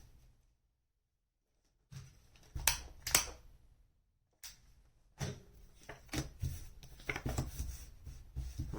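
Tarot cards shuffled by hand in a quiet room, with soft riffling bursts and papery taps separated by silent pauses, close and fairly faint.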